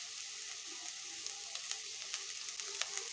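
Pieces of bitter gourd fry in a pan over a medium flame for an Andhra-style kakarakaya fry, giving a faint, steady sizzle sprinkled with small crackles and pops.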